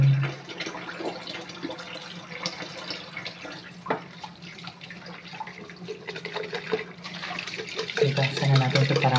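Steady running tap water splashing into a kitchen sink while dishes are washed, continuous and close, with clatter and shifting water tones and a faint voice underneath.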